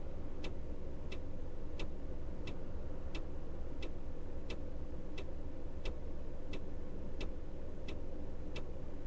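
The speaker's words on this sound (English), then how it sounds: "Even the indicator sounds like a ticking clock." A coach's turn indicator in the Fernbus Simulator driving game, ticking steadily at about two clicks per second like a clock, set against a constant low engine rumble with no talk.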